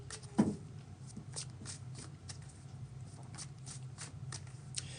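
Tarot cards are shuffled close by in a steady run of soft papery riffles and light ticks over a faint background hum.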